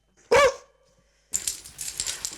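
A homeless shelter dog gives one short, loud bark at close range, followed by a pause and then a stretch of rustling, shuffling background noise.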